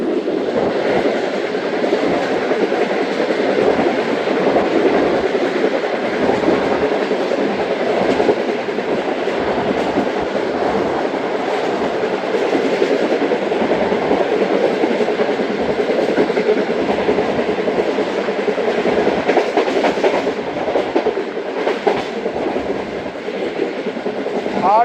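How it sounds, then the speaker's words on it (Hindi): Shalimar Express rolling at around 100 km/h on its approach to Lodhra Junction, a loud, steady rumble of wheels on rail with faint clickety-clack running unbroken throughout, heard close as if from inside a carriage. "लोधरा जंक्शन अप्रोच कर रही है ट्रेन"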